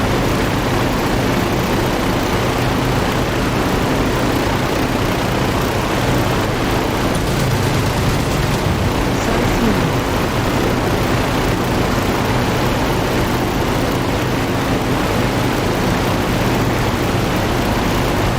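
I-16 propeller fighter engine in the DCS flight simulator, a loud, steady droning roar that holds without a break from the cockpit.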